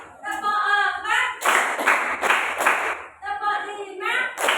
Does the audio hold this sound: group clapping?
yes